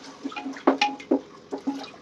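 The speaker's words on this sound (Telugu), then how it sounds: "తీసుకున్న గోధుమ రవ్వలో ఒక గ్లాస్ వాటర్ అయితే వేసుకోవాలి" A glass of water poured into wheat semolina for haleem, giving gurgling, bubbly splashes in short irregular bursts, close and fairly quiet, with no talking.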